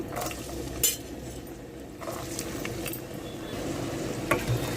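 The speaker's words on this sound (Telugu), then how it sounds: "ఏగిపోవాలి ఉల్లిపాయలు బాగా ఏగిపోవాలండి" Onions, green chilies and curry leaves frying in a pan for a raw mango curry, a steady close sizzle with scraping spoon and clinking utensil strikes throughout, no voices.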